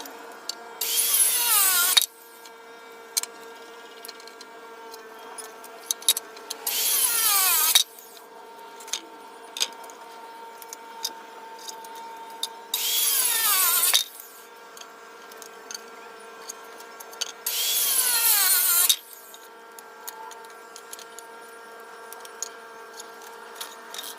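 A power saw cuts wooden boards to length for a portable DIY anvil stand, four loud bursts of about two seconds each, separated by quieter stretches of steady motor hum.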